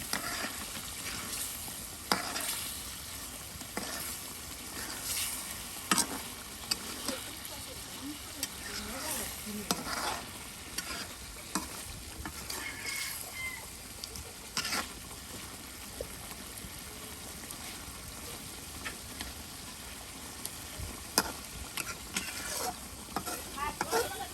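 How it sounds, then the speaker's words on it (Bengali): A large tilapia fish bhuna curry fries and gets stirred in a village pan, a continuous sizzle with irregular scraping strokes of a spatula over about twenty seconds, while people talk intermittently nearby. "অনেক বড় তেলাপিয়া মাছের ভুনা তরকারি করা হচ্ছে"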